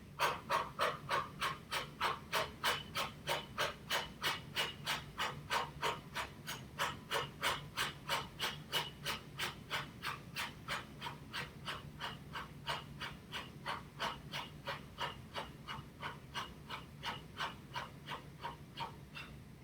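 Rapid forceful exhalations through the mouth during Kapalabhati yoga breathing, a long steady train of sharp puffs about two per second, close and continuous for the whole stretch.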